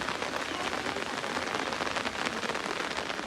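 Rain falls steadily at a home during the monsoon, a dense, even hiss of drops on surfaces, moderately loud and continuous, with no voices.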